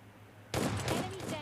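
Gunfire bursts from the mobile battle game PUBG Mobile Lite, a shotgun finishing an enemy, erupting loudly after half a second of quiet as rapid overlapping shots.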